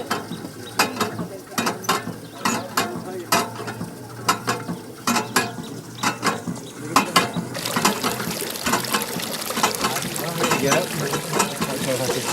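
A simple mechanical pump lifts water from a 90-foot village well, producing a repeated clanking ratchet-and-gear rhythm, then splashing, gurgling water as it flows, with voices talking nearby.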